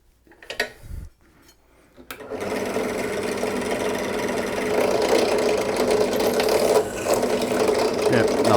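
A Ryobi 250W drill press spins up and bores a hole, a few clicks and handling knocks giving way to a steady motor hum with grinding cutting noise, close and continuous.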